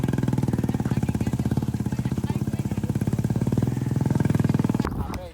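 A Bullet motorcycle engine thumps close by in a fast, even beat of deep pulses, loud and steady for about five seconds before cutting off abruptly.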